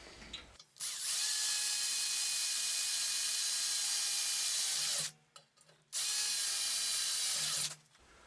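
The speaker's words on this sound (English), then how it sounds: "Let me just drill the 2 holes." A power drill bores two holes in quick succession, two long bursts of high whining motor noise separated by a short pause, close and loud.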